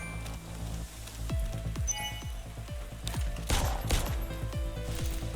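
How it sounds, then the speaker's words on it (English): Gunfire in the Lovecraft Country Parasite Mutant game demo, sharp shots in quick bursts of four repeating through a dense soundscape of game ambience and rain-like patter. "Apparently I can do 4 shots at a time."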